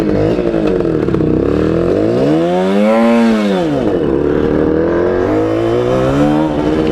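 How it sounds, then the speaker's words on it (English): A 1978 Suzuki GT185 motorcycle engine running loud and close, with a steady two-stroke drone that rises in a rev around the middle and then settles back to idle. "She does have electric start, so I'll try and get her to go on that. And she is very loud"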